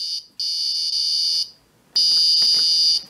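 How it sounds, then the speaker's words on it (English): An Arduino memory game alarm clock sounds its alarm: a piercing, high electronic tone in two long bursts, each about a second long, separated by short silences. "it goes into full-on annoying alarm mode"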